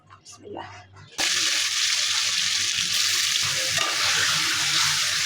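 Pangas fish coated with garlic paste, onion and green chilies sizzles hard in a generous amount of hot oil, a loud, steady hiss and crackle starting abruptly after a brief moment of quieter sounds, then holding constant.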